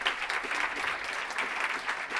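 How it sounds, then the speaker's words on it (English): A short burst of dense audience applause at an impact investing evening event, steady and even throughout, many hands clapping at once at a moderate distance, with no voices standing out. "Big round of applause, guys."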